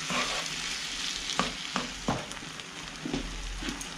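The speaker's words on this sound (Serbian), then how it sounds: "Ja ću ovo pustiti da se krčka nekih 15-20 minuta" Cabbage cooking in a pan makes a soft, steady bubbling sizzle close by, broken by a few light knocks and stirring sounds, with no voices.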